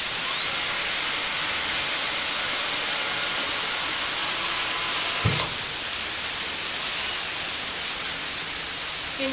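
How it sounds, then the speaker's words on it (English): A power drill boring into a wooden board whines steadily at high pitch and rises once, then the tone cuts off abruptly, leaving a quieter hiss, close and loud. "I'm going to go ahead now and drill into the board."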